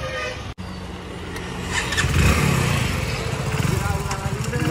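Nearby, a Hero Splendor motorcycle's engine runs with a steady low chugging hum that swells slightly after a couple of seconds and stays fairly loud, with people speaking over it.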